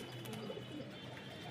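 Pigeons coo softly on a rooftop, a few low, rolling calls with faint chirps, quiet and fairly close against a calm background.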